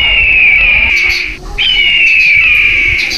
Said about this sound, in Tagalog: Noong sanggol pa lamang si Florante ay muntik na siyang dagitin ng isang malaking ibon.